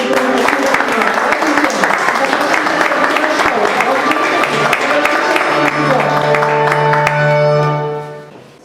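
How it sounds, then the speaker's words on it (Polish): Loud applause rises for award winners, teachers from a primary school, in Poznań, mixed with crowd noise and a tonal musical fanfare that swells toward the end before fading out. "Gratulujemy, brawa!"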